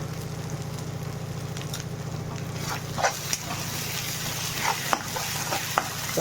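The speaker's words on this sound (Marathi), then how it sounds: "चांगला मसाला भाजून घ्यायचा," Masala with coriander powder and mango chutney roasting in a pan for a bitter gourd dish, giving a steady close sizzle with occasional scraping taps from stirring. There is no speech.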